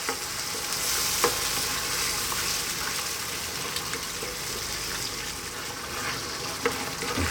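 A mushroom cream sauce with grated Parmesan sizzles in a pan while being stirred continuously, a close steady bubbling fizz with occasional spoon knocks.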